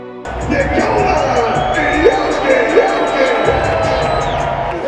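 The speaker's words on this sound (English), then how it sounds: "the reaction from the crowd" Basketball arena crowd cheering and whooping steadily through player introductions, a dense loud roar of many voices with scattered shouts on top.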